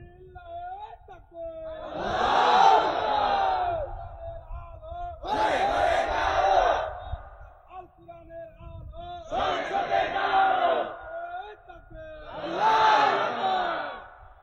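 A large crowd at an outdoor Islamic religious gathering roars takbir in four loud, long swelling chants, each rising and fading with short pauses between them.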